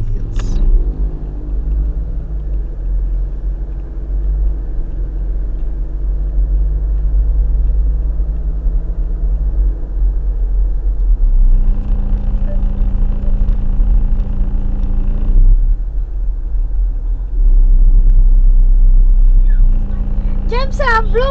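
Car engine rumbling steadily while driving through Green Hills, a continuous low drone throughout with voices talking over it and a brief shift in tone midway.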